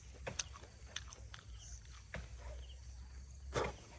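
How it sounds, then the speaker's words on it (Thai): Raw bee larvae eaten straight from a wild honeycomb, giving close, wet chewing and biting sounds in a few irregular bursts over faint outdoor background, with no talking. "แต่ถ้ามีตัวอ่อนเนี้ยผมเคี้ยวเลยครับ"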